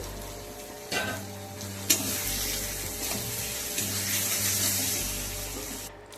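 Fried potatoes drop into a pan of mushroom curry, setting off a loud, close sizzle that continues steadily with stirring scrapes and a low background hum.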